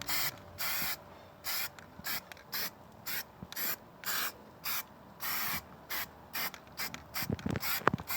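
Sealant sprayed from an aerosol can onto a leaky bird bath, about a dozen short even hisses in a steady rhythm with brief gaps, close and alone, ending with a few clicks and knocks.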